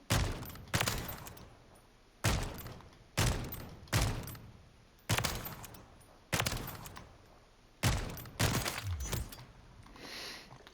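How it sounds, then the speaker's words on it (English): Sniper rifle shots in a video game ring out in quick succession, about ten loud, sharp cracks, each followed by a brief fading echo, with a near-steady rhythm and no talking. "Fast follow-up shots."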